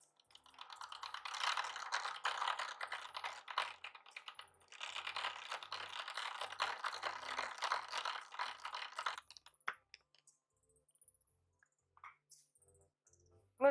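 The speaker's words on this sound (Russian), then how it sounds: "Теперь мы будем взбивать сливки." An electric mixer whisks cold cream to soft peaks for a honey cake, giving a steady whirring rattle for about nine seconds with one short break, then falling quiet; no voices.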